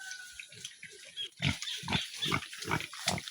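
Pigs grunt and squeal in a rhythmic series of close, throaty oinks, with faint background chatter and a high whine underneath.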